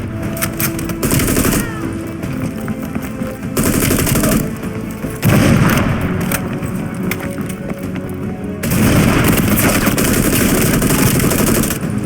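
Heavy machine gun fire in Call of Duty Black Ops Cold War comes in long, loud, close bursts of rapid shots, with short pauses and rattling impacts between the strings.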